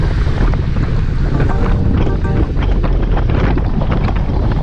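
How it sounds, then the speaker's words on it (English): Strong wind roars across Lake Conroe during a group road bike ride, a loud, steady rumble buffeting the microphone without a break, no voices. "Hear that wind."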